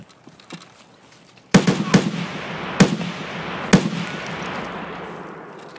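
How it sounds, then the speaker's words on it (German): A grenade explosion in the shooter game Escape From Tarkov arrives as a sudden loud blast. A few more sharp bangs follow, each with a fading rumbling tail. "Granate"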